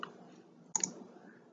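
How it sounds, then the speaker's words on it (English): A keyboard key is pressed for a shortcut in design software, one quick double click standing out close and alone against near silence. "you can also click the letter G on the keyboard for shortcut"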